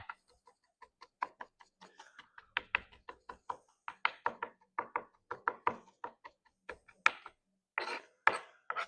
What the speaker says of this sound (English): So like, go crazy, chop it up as much as you want.